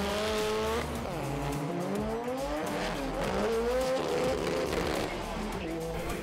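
Front-wheel-drive drag car revving hard on a first test run at an All Torque test day, its engine note climbing in repeated sweeps through the gears, loud and close, with a brief tire chirp and a dip near the start.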